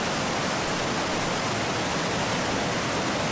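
Small Falls at Eurobin Falls on Mount Buffalo pours steadily, a loud, even rush of falling water with no breaks and no voices.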